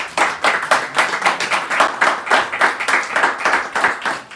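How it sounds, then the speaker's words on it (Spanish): A press-conference audience claps steadily and loudly for the full stretch, dense overlapping hand claps with no voices on top. "y a quien pido un fuerte aplauso"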